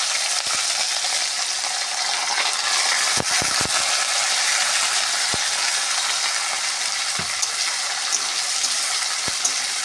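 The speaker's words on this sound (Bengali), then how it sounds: "ভিজিয়ে রেখেছিলাম মুগ ডাল আর গোবিন্দভোগের চাল, সেটা আমি এখন তেলে ছেড়ে দেবো।" Soaked mung dal and Gobindobhog rice frying in oil for a kochu shak dish, a steady bright sizzle running throughout with a few sharp clicks of a stirring spoon, close and fairly loud, no talk.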